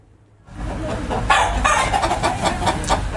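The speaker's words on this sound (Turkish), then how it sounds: "Hacı Kadı tavuğu Sinop'un Gerze ilçesine özgü bir tavuk türü" A Hacı Kadı chicken, a breed native to Gerze in Sinop, Turkey, clucks and squawks up close after a brief quiet start, with other fowl and farmyard noise around it.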